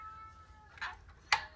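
A house cat meowing twice near a 70cc four-stroke dirt bike, two short, fairly loud close meows about half a second apart over quiet room noise.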